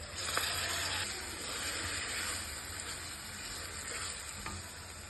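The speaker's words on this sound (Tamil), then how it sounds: "இந்த ஸ்டேஜில் வந்து நம்ம மசிச்சு வச்ச கத்திரிக்காயும் தக்காளியும் சேர்த்துக்கலாம்" Onion frying in oil with mashed roasted eggplant and tomato being stirred in for a Tamil eggplant gothsu, a continuous close sizzle with occasional light scraping strokes of the spoon, no voices.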